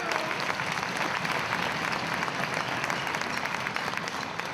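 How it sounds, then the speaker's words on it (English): Steady applause from an intermediate school band concert audience, dense clapping filling the whole moment without a break, fairly close and evenly loud. "I would like to give him a round of applause"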